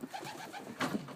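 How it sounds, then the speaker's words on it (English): Pigeons coo softly on a snowy, windy farm, a few low burbling calls close by in quick succession, with a slightly louder coo near the end. "Here's the pigeons."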